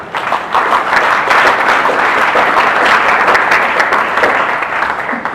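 A church congregation at a funeral service claps and applauds, a loud, dense, continuous round of clapping from a large crowd.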